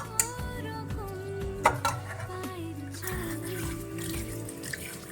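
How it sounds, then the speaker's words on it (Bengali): Running tap water splashes as hands are washed in a kitchen between cooking dishes, a steady near stream with occasional clatter, under a faint hum. "তো হাতটা ধুয়ে নিলাম।"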